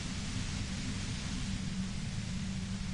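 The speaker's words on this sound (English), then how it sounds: "If you've got something really important to say, you can do it through the white noise." Steady low rumbling white noise, like distant rain and thunder, plays as ambient sound in the video game Disco Elysium, continuous and even throughout with no voices.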